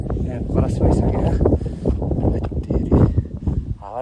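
Strong mountain wind buffets the microphone in gusty, rumbling bursts along a steep cliffside trail, with someone talking over it.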